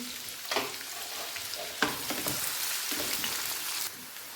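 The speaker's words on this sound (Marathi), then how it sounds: "आता यामध्ये घालत आहोत आपण बारीक चिरून घेतलेला कांदा व्यवस्थित आपल्याला लालसर परतून घ्यायचा आहे।" Finely chopped onion fries in hot oil in a pan, a steady crackling sizzle heard close up, alone, with brief stirring scrapes and louder bursts.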